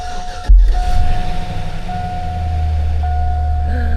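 A pickup truck with a 5.3 Vortec V8 starts after an oil pump pickup tube O-ring replacement: a sharp thump of cranking, then a close, steady, low engine rumble with a high warning chime tone running underneath.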